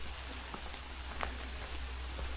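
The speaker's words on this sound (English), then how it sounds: "It's absolutely, it's chucking it down the rain." Heavy rain falls steadily through Scottish woodland, a constant dense hiss with scattered louder drops, no voices.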